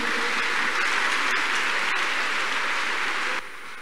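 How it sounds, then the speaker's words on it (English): A church congregation claps together during a service, a dense, steady roar of many hands that holds loud and even, then drops abruptly to a softer patter near the end. "Let's clap unto God and appreciate him."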